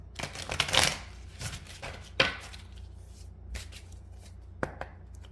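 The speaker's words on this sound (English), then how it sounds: "I'm just going to shuffle a little bit here" Tarot cards are shuffled by hand in quick bursts of riffling and flicking, close and crisp, with quieter taps between the bursts and no talk over them.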